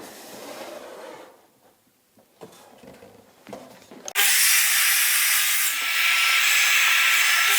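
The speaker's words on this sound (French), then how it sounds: "Alors je vais commencer par réaliser une première coupe de propreté à l'extrémité de ma pièce." A saw cuts a wooden board for a birdhouse: quiet handling and scraping sounds, then a sudden loud, steady broadband roar of cutting that runs to the end.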